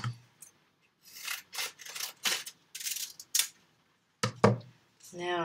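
Scissors snip through paper for a pre-K rainbow fish art craft, several separate short cutting bursts with pauses between, close and fairly quiet, with a brief voice near the end.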